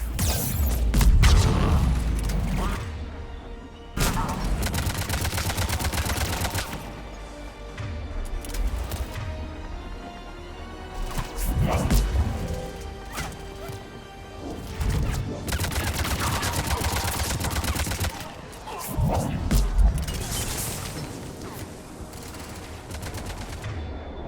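Heavy gunfire during an attack on Sur'Kesh in Mass Effect 3: loud, dense bursts of automatic fire and booms that surge and ease repeatedly, with faint voices at times.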